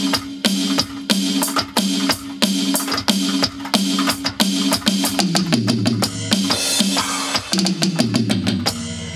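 DW acoustic drum kit samples triggered on a Roland SPD-SX Pro pad, a steady busy pattern of loud drum hits with a pitched low tonal layer underneath, getting denser toward the end, no talking.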